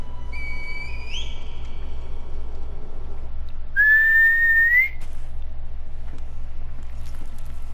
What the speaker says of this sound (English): Call the divine air with the reed whistle.